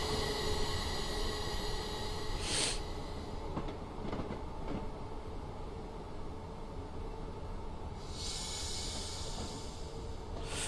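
A Class 423 4VEP electric train on the South London Network in Train Simulator 2016 runs with a quieter steady rail rumble, broken by a few sharp hissing bursts and knocks, with no voices.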